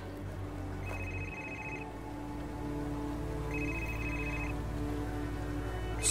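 Telephone rings out in two electronic ring bursts at a steady interval over low background hum, indoors at night with no talking.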